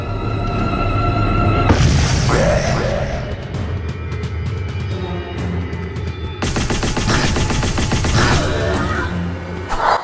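Rapid bursts of magic wand fire in the fantasy shooter Ziggurat, loud dense crackling volleys with booming hits, a pause in the middle before another sustained barrage.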